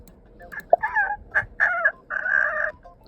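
Clucking and crowing chicken call from the voice-imitation game My Voice Zoo, a few short squawks then two longer warbling crows, fairly close and clear with no talk over it.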